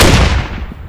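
Grenade explosion in the video game SQUAD, a single heavy close blast that hits hard at once and then decays in a rumbling tail.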